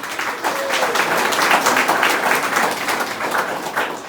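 A crowd applauds Jean-Aubert Edouard at a St-Pierre feast celebration: dense, steady clapping sustains for several seconds at an even, fairly loud level.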